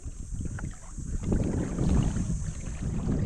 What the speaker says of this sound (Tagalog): Yan yung bangka ni Tatay Ramil